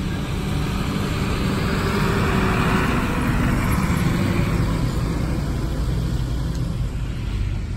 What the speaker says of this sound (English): The Volvo FL6 coming in next.